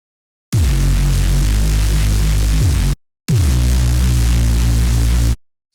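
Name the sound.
Reese bass synthesizer patch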